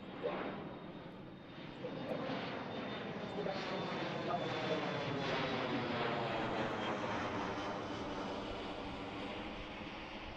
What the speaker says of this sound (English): E175 taking off